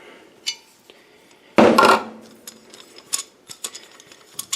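A wrench snugs the wing nut on a SPIN swage tool, giving a short burst of metallic ratcheting and grinding clicks, preceded and followed by scattered light taps and clinks of metal parts being handled up close.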